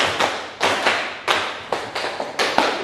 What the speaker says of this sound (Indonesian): Tepuk 5. Nah, tepuk 5 3 kali.